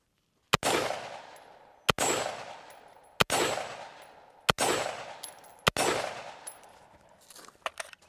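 A carbine fitted with an Aimpoint CompM4s sight fires at steel targets outdoors: five loud, evenly spaced single shots about 1.3 seconds apart, each with a sharp crack and a ringing decay, followed by faint clinks.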